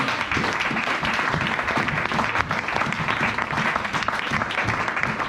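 A church congregation bursts into sustained, dense applause after a call to acclaim the Lord, loud clapping filling the room evenly from start to finish with no speech over it.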